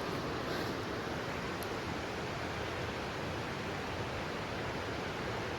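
Loud, steady rushing water of the Cossatot River in a wooded river corridor, a dense unbroken roar filling the scene with no voices.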